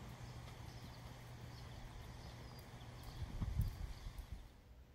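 Hoofbeats of a young event horse, a mare in flat work with transitions, fall as a soft, steady rhythm over low background noise and build to a few heavier, closer strikes near the end.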